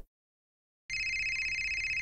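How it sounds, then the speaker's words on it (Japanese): A mobile phone rings after a stretch of silence, a steady electronic ringtone that keeps going without a break, moderately loud, with no voices over it. "ちょっとかけてみてよ、僕の携帯に。"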